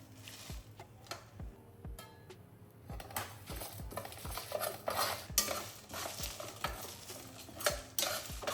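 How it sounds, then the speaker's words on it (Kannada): Grated coconut sautéed with roasted spices in a pan: repeated metal spatula scrapes and taps against the pan over a faint sizzle, irregular and close, growing busier midway, with no voices. "ಈಗ ಇದಕ್ಕೆ ತುರಿದಿರೋ ಕೊಬ್ಬರಿನೂ ಸೇರಿಸಿ ಅದನ್ನು ಬಾಡಿಸ್ಕೋತೀನಿ"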